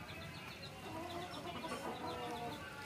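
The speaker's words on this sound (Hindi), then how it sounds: "ये हमारे मुर्गी के बच्चे" Young chicken chicks cluck and cheep in a chorus of repeated high peeps over a busy low background, near and continuous.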